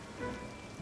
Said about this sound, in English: And now it's raining, so it's getting hydrated.